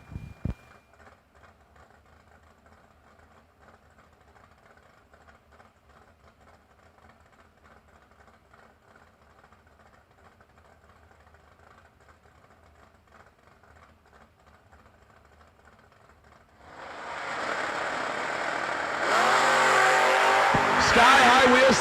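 Drag racing at a New Year Nationals event, including a 1967 small tire Camaro and a Mustang: a low idling rumble under a commentator's voice, then a loud roaring launch as the engines rev hard near the end.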